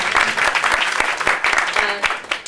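Audience members at a business ethics course give a short round of clapping, loose and uneven with distinct individual claps, close and moderately loud, fading toward the end.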